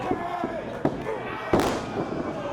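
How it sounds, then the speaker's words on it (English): Heavy impacts of a wrestler slammed to the mat with a buckle bomb in a heavyweight pro wrestling match, a loud thud with crowd noise under excited commentary. "Buckle bomb! Moose nearly cut Cage in half."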